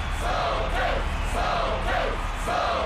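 Packed stadium crowd at a cartoon soccer match roars continuously, with repeated swelling chant-like shouts rising over a dense, steady wall of noise.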